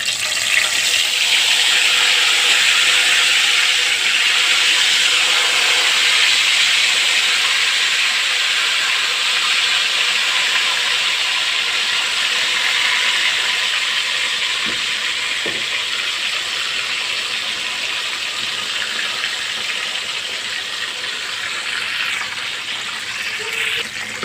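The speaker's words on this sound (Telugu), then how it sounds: "ఇలా చేప 2 వైపులు బాగా ఫ్రై చేసుకోవాలి" Fish sizzling in very hot oil while frying for an Arabic-style fish mutabaq, a loud, steady hiss that holds level throughout with no voices.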